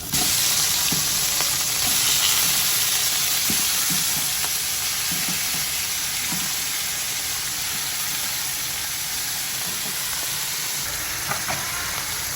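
Pork sizzling in a frying pan with onion, a loud, dense, steady hiss with occasional stirring scrapes and pops, easing slightly over time.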